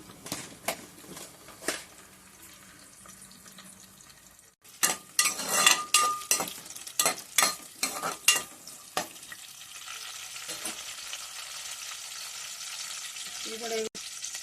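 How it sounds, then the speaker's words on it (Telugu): Chopped onions dropped into hot oil in a pan for a Telugu mushroom and brinjal curry, giving a burst of crackling sizzle and stirring clatter, then a steady frying hiss that continues near and loud. "ఆయిల్ వేసాను ఫ్రెండ్స్ ఉల్లిపాయ వేసాను"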